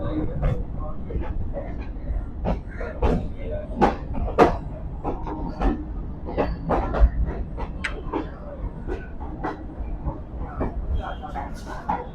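A Kolkata local train running between Majherhat and Bagbazar, a low steady rumble broken by frequent sharp clanks and rattles of the carriages, with people talking over it.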